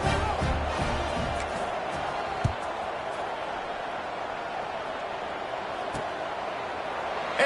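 A football stadium crowd roars before kickoff, a broad steady wash of cheering and noise with a few thumps, loud and continuous.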